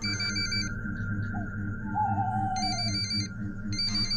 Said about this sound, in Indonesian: terdengar dering ponselnya memanggil